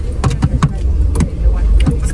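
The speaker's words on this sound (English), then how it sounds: "There's so many cars, bro." Cars moving through busy traffic, with a run of close, rising and falling whooshes as vehicles pass one after another, loud and near.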